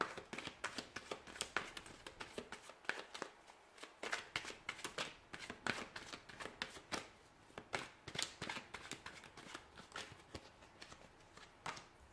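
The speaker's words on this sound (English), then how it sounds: "So we'll go ahead and give the cards a shuffle here" Tarot cards are shuffled by hand, close and quiet, in a run of repeated quick riffles and flutters.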